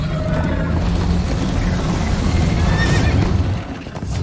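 A horse whinnies loudly amid a dense, noisy Minecraft: Story Mode game soundscape of hooves and rushing wind, continuous throughout.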